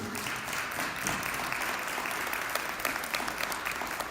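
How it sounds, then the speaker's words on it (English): Sustained applause from an audience honouring the top three spellers at a school spelling bee; dense, steady clapping fills the whole stretch with no voices over it. "Congratulations to all of our spellers, but our top three. Round of applause, please."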